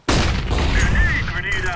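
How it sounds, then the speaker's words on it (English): A grenade explosion in Counter-Strike, one sudden loud blast that hits at once and holds a dense rumbling roar throughout, with a brief high tonal whine near the end. "I am throwing a grenade."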